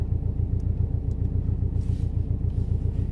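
A car engine holds a steady, rumbling rev for a launch control test at 4,500 rpm, loud and close, with no voices over it.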